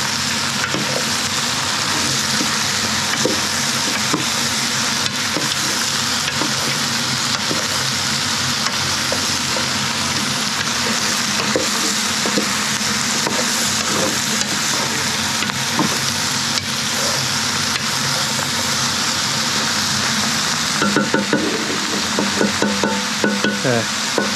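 Beef riblets and pig trotters for a Cantonese-style stew sizzle and fry steadily in a pan while being stirred, with occasional scraping clinks over a continuous close crackle and no talking.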